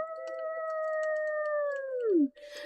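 A person's voice imitates a lone wolf howl as one long, steady tonal note that sags and drops in pitch at the end, close and fairly loud, followed by a brief breathy noise.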